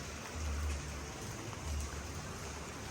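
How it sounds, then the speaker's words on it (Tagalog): Rain falls steadily on a flooded city street at night, a dense, even wash of noise with low rumbling swells of water, heard alone without voices. "it's raining on me"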